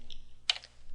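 A few quick, faint clicks of computer keyboard keys as a short command is typed, close and quiet with no talking.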